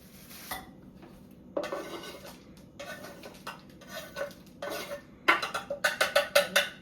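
Chopped vegetables being tossed and stirred in a pan, producing bursts of metallic clatter and scraping that grow into a quicker, louder run of clinks near the end.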